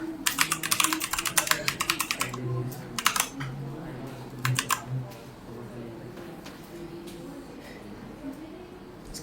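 Quick bursts of clicking keystrokes on a computer keyboard come in clusters with pauses between them, under a voice speaking Hindi during a programming class.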